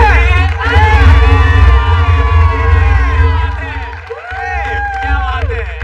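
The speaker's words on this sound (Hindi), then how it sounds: "Make some noise for the final act." A live comedy show audience cheers, whoops and claps for the final act, a loud dense crowd roar that swells and fades slightly with voices mixed in.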